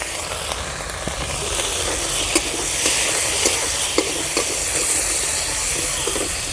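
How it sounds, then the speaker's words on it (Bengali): Peas go into a spice paste frying in oil, giving a loud, continuous hiss of sizzling oil with a few sharp clicks and pops throughout. "মশলাটা কষানো হয়ে গেছে হালকা তেল ছেড়ে দিয়েছে এর মধ্যে দিয়ে দেবো মটরশুঁটি"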